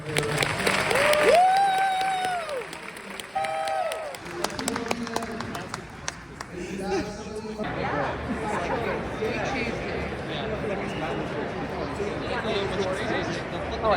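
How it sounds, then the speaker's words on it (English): A horror convention audience claps for a panel of guests, applause swelling after a brief voice and settling into a busy mix of clapping, chatter and crowd noise. "Big round of applause for our panel."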